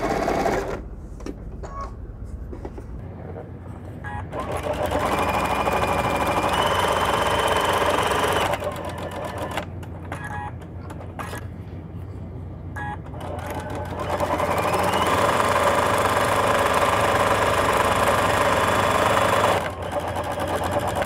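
Sewing machine top stitching a seam on a picnic roll, running close and loud in long continuous bursts separated by short pauses.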